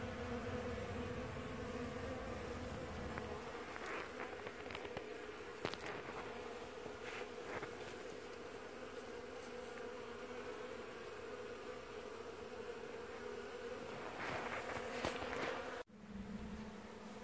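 Honeybees being removed from a mobile home buzz in a dense, continuous swarm hum, close and fairly quiet, with occasional knocks and a brief shuffle near the end and no talking.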